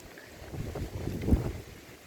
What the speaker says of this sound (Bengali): দেখুন যেভাবে ঝোড়ো হাওয়া এখনও পর্যন্ত চলছে